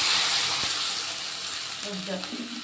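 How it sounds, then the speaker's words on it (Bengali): Potatoes fry in hot oil in a pan as they are stirred, giving a steady broadband sizzle that slowly eases, with a few faint clinks near the end. "তো আলুগুলোকে এইভাবে তেলের মধ্যে নেড়ে নেড়ে ভেজে নেব।"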